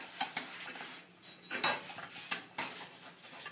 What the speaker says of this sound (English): So we're going to wipe a liberal amount of Crisco on the skillet.